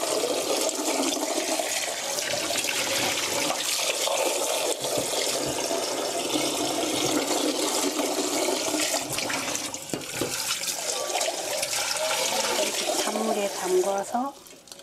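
Cold tap water runs steadily into a sink to cool boiled quail eggs for braised quail egg jangjorim, a loud close gushing flow that continues throughout and shifts slightly near the end.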